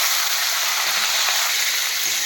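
A fish sliding into hot oil gives a brief, steady hiss of sizzling, close and fairly loud, with no voices.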